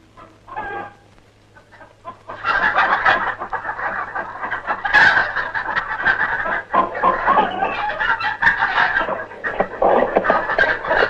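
Chickens cluck loudly and continuously close by, with a rooster-like call mixed in; the fowl noise starts after a quiet opening second and fills the rest of the scene, with no talking.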